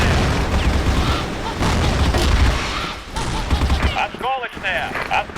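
Frag grenade blasts and rapid gunfire in the shooter game CrossFire, with dense bursts of fire and booms over the first half, then sparser shots and game radio chatter toward the end.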